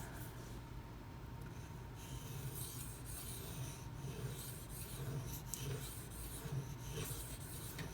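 A Kershaw Bareknuckle knife blade rasps steadily on a Shapton Pro 2000 grit whetstone, a continuous close scraping texture with strokes running alongside one another and no talk.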